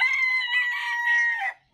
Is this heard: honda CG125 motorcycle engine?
no